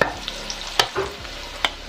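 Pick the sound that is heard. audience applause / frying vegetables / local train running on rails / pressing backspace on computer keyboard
frying vegetables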